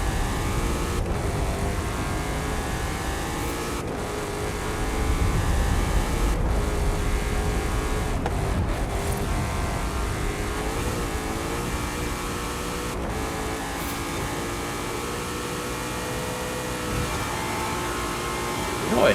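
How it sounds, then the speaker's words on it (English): Race car engine in Forza Horizon 5 droning steadily loud and close, rising and falling with revs, punctuated by sharp, aggressive downshift blips and crackles, with a voice talking over it at times. "That was fucking aggressive downshifts."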